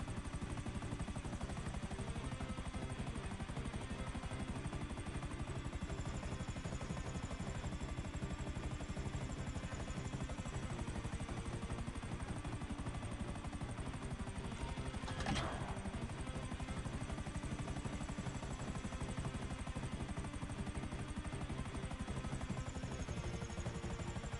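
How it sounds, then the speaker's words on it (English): A small black helicopter flown in Grand Theft Auto, its steady rotor and engine drone running loud and continuous throughout, with a brief sharp burst partway through. "I like these little black helicopters they give you on these missions."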